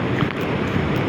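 Strong wind and rough waves buffet a small fishing boat at sea, a loud, continuous roar of gusts and sloshing water against the hull with heavy wind noise on the microphone.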